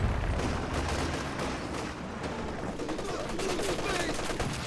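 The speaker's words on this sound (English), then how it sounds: "MG34 doing good work there" Bursts of MG34 machine gun fire rattle through a real-time strategy battle between Soviet and German forces, rapid and loud, mixed with other gunfire and explosions.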